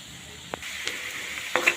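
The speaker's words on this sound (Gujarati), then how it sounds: "હવે આપણે શેકાવા દઈશું લસણ ડુંગળી આપણું શેકાઈ રહ્યું છે" Garlic and onion roasting in a pan give a soft, steady sizzle with a few brief clicks and scrapes, fairly quiet and with no voices.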